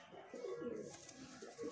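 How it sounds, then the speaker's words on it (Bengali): A male Kalsira breeder pigeon coos softly indoors, a few low, rolling coo phrases repeating over faint background noise. "আরেকটি কালসিরা নর পায়রা আপনাদেরকে দেখাচ্ছি"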